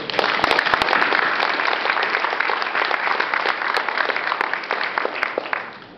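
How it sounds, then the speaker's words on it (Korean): Audience applause for CEOs selected among the Fortune 40 masters at an awards ceremony, a full burst of many hands clapping with sharp individual claps standing out, steady then tapering slightly toward the end. "우리 다 같이 큰 박수 한번 주실까요?"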